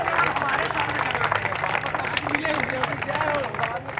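A street crowd claps steadily through a Chhattisgarh assembly election street interview, the dense, busy applause continuing for the whole stretch with voices mixed in.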